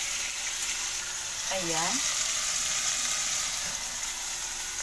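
Garlic going into a pot of cooked chicken for a soup, with a steady, close sizzling hiss throughout and a brief voice speaking over it.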